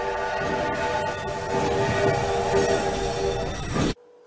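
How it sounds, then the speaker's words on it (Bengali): A train pulls into a station in the film Sholay, its horn sounded on a French horn and blaring as a loud sustained chord over rumbling wheels, then cutting off abruptly. "তীব্র আওয়াজে চারদিক কাঁপিয়ে একটা ট্রেন স্টেশনে ঢুকছে।"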